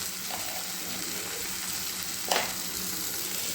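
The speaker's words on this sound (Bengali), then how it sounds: "মশলাটাকে খুব ভালোভাবে কষিয়ে নিয়েছি" A spice paste with turmeric and salt sizzles evenly in hot oil for a pointed gourd curry, a continuous close hiss with one clear spatula knock partway through.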